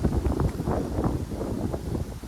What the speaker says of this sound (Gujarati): પવન એક નંબર આવે છે કેવો પવન ઠંડો ઠંડો